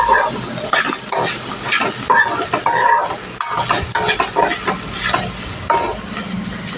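Bitter gourd curry fries in a pan, giving a close, continuous sizzle broken by frequent stirring scrapes and light clinks of utensil against metal for several seconds.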